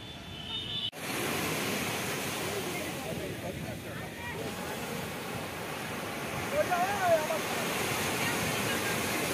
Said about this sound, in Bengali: ওই জন্য এত ঢেউটা এত বেশি।